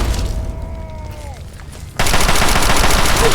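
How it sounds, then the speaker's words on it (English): Rapid enemy gunfire in the video game Fallout 3 crackles loudly and continuously, cutting in abruptly after a quieter stretch with a descending whine and background hum. "Somebody somewhere is trying to shoot at me."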